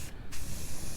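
An aerosol spray can hisses in one continuous burst, close and steady, with a momentary dip at the start.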